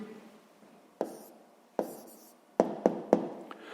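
Pen strokes and taps on paper while writing down a sixth-grade math answer, a few sharp marks at irregular intervals over soft scratching, close and quiet.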